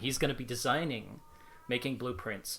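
A pet cat gives one faint, thin meow in the background during a brief pause, while someone talks loudly over the rest of the moment.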